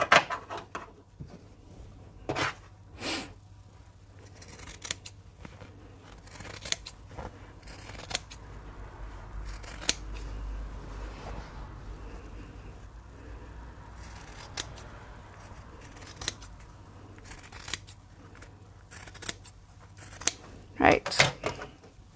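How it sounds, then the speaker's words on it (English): Scissors trim the two fabric sides of a tote bag pocket, giving several sharp, close snips scattered through the passage over a low steady hum, with a voice talking in places. "I'm just going to trim down the two sides now."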